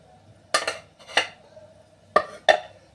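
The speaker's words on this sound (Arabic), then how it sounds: "هبدا ان انا اقلب كل المقادير كده اهو" Potato pancake batter stirred in a bowl after one egg is cracked in, giving four clinking scrapes of utensil against bowl in two pairs, close and fairly quiet, with no talk.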